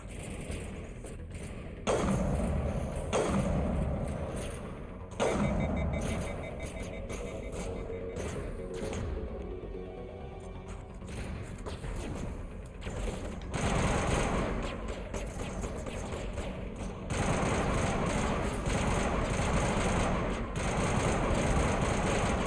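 Repeated gunfire bursts in Mass Effect 1 Legendary Edition, a shotgun in the mix, with heavy thumping blasts recurring every few seconds over a dense, continuous din of combat noise and game ambience.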